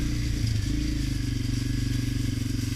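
A fuel-injected Honda CRF250F motorcycle engine idles steadily close by, a fast even putter with a slight rev near the start, running alone without talk.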